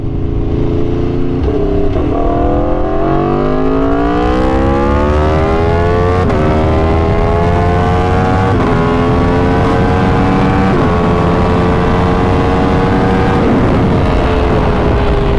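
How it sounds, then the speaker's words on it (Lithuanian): An Aprilia RSV4 sport motorcycle roars loudly and close throughout as it accelerates, the engine pitch climbing repeatedly through the gears with brief dips at each shift, wind noise underneath and no talking. "Ir važiuoja šitas motociklas atitinkamai gerai."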